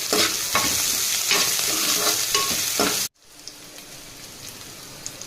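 Garlic frying in hot oil for gongura fry, a loud dense sizzle with rhythmic stirring scrapes that cuts off abruptly, leaving only faint room noise and a few small ticks.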